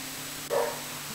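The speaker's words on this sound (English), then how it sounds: "The dogs have now gone wild." A dog gives a single short, sharp bark, fairly close and loud, standing out briefly against a quiet, humming room background.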